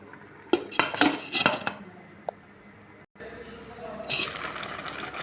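Metal lid set on a cooking pot of shrimp sinigang with vegetables, a few clanks and clinks of pot and lid near the start, followed by softer kitchen clatter and a simmering wash.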